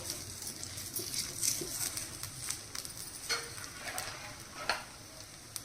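A rice-flour ghavane pancake frying in oil on a pan gives a faint, steady sizzle with scattered soft crackles and light clicks.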